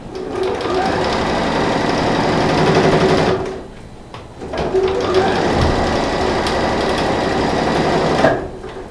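A sewing machine stitches fabric lining onto a piece for a clothes organizer envelope. It runs with a loud, rapid mechanical whir in two long bursts, pausing briefly in between, and stops near the end.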